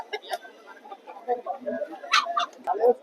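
A rooster at the Nandigama livestock market clucks in short bursts, close up, while someone talks over it and other market noise stays in the background.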